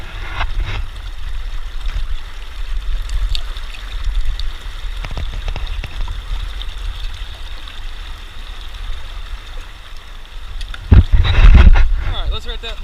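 River water runs through a gold sluice box in Colorado as a steady close rush and gurgle, with occasional knocks and a brief louder splash near the end and a voice speaking over it.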